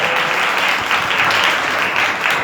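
Loud, continuous applause from a congregation at a Sunday service in a Pentecostal church, steady and close throughout the short stretch.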